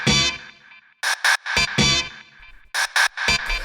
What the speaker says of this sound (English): Just find a stab and put it at the start of every bar.